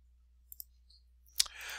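A computer mouse gives two faint, quick clicks while someone works through the Google Sheets menus. A sharper click follows, then a soft rustling noise.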